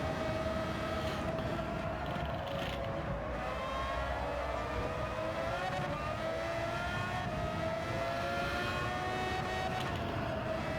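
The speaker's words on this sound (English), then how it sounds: "Hit the rev limit" A race car in Gran Turismo 7 during an online Nations Cup qualifier, its engine held at the rev limiter in a continuous buzzing drone with stuttering pitch, loud and steady throughout.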